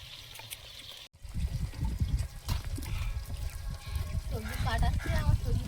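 Tap water runs and trickles while freshly picked garden vegetables are washed in a home kitchen. The flow is steady and close, with people talking over it throughout.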